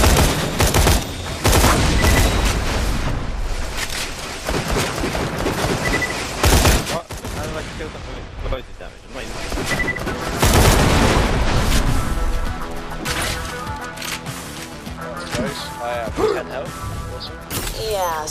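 Heavy gunfire in the shooter Borderlands: The Pre-Sequel as turrets are destroyed, dense loud bursts with booms and crashes, mixed with voices talking over the action.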